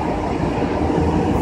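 A suburban commuter train rolls past near a metro station in Izmir, Turkey, a steady loud rumble of wheels and carriages filling the scene without break.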